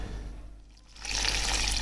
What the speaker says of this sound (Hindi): 2 गिलास के करीब इस पे हम पानी ऐड करेंगे